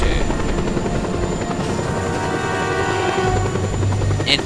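A helicopter flies in a video game, its rotor and engine a loud continuous droning chop that fills the scene with steady buzzing overtones, no talking.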